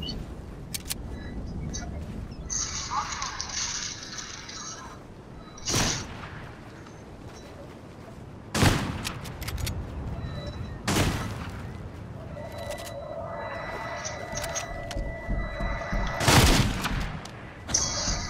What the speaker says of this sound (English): Ooh, they're already shooting.